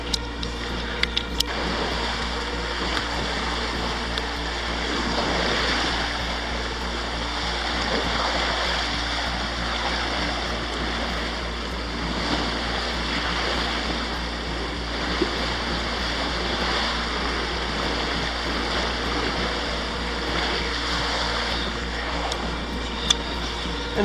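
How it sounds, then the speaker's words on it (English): Small waves break and wash steadily against a sailboat's hull during a cold night sail toward Florida, a continuous close rush of water with a low engine-like hum beneath. "The sounds of the waves breaking, I mean, they're just little waves"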